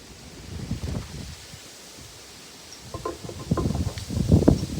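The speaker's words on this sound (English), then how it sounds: "Whoa. Strong wind. Whoa, laundry's going crazy over there." Strong gusty wind outdoors in Japan with laundry flapping, irregular rustling and buffeting bursts that build louder toward the end.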